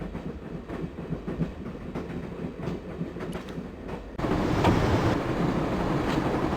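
A train from the video game Broken Sword runs steadily with rhythmic clickety-clack over a rumbling roar that suddenly grows louder and fuller partway through, with no talking.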